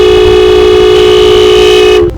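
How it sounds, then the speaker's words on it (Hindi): A single loud, sustained car horn blares for about two seconds in traffic in Syria, then cuts off abruptly, leaving a low traffic rumble. "परमवीर हॉर्न भी पूरे दे रहे हैं, पूरे दबा के हॉर्न"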